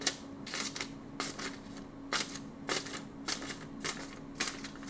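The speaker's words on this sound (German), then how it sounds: "Jetzt schauen wir mal, wie gut die Schere ist." Small multitool scissors snipping through material, a series of short crisp cutting snips in an irregular rhythm, close and fairly quiet against a faint steady hum.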